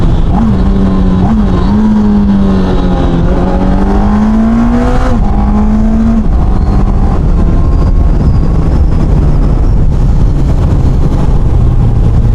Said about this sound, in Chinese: 上来我们先试一下快排。